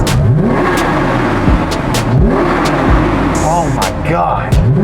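A loud, close Porsche 911 GT3 engine revs hard, its pitch sweeping up and down repeatedly, roaring continuously with no talking.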